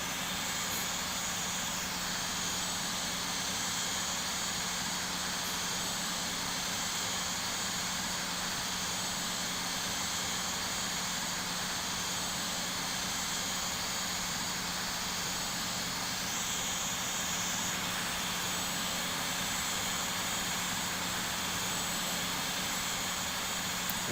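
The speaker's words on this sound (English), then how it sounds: "Now we're gonna take off runway 23, departing and north." Air France A318 jet in the Infinite Flight game on its takeoff roll from runway 23 at Florence, a loud steady engine roar with a constant whine, holding unchanged throughout.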